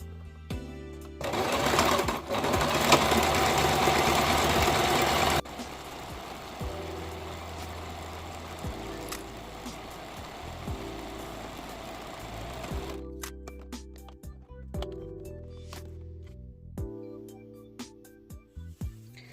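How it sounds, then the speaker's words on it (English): A sewing machine stitches fabric for a homemade scrunchie, first in a loud, fast buzzing run close by, then in quieter short bursts with pauses and small handling clicks between them. "Just put it under the sewing machine."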